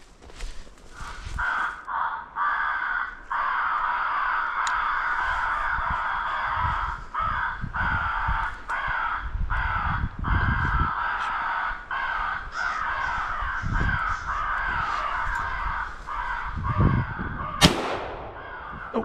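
Crows cawing during a crow hunt, a long run of harsh repeated caws at steady volume, likely from a caller, with a few low thumps and a sharp blast near the end.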